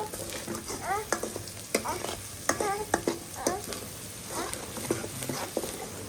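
Onion with salt fries in a pan, close and fairly quiet, with a steady sizzle and repeated scraping clicks of a spatula stirring at an uneven rhythm.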